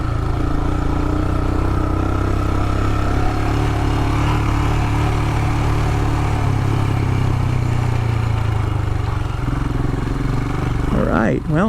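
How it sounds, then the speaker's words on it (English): A Himalayan adventure motorcycle with worn tires rides off-road in Colorado, its engine droning steadily and loudly up close throughout, with wind and road rumble. No one speaks over it. "Feels good to be off-road on the Himalayan."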